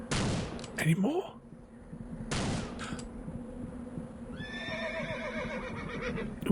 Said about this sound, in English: Ooh, where are the horses? We can hear them,